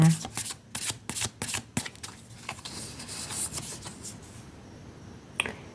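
Oracle cards from a Magic of Paper deck are shuffled in quick riffling bursts up close, then handled more softly, with someone speaking in the background.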